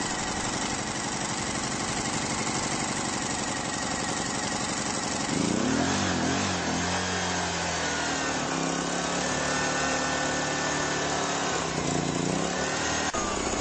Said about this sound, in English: grab the recoil handle and pull the recoil rope 2 to 3 times briskly to start the inverter.